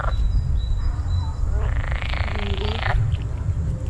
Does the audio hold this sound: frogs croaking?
yes